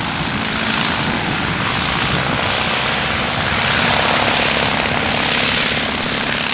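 Steady, loud drone of the engine on a Bristol Fighter F2b replica, a First World War biplane, running continuously and close by, with slight swells in level and no voices.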